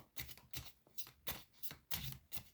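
Tarot cards being shuffled and handled for a fortune reading make soft, rhythmic riffling swishes about every half second, close and quiet, with no voices.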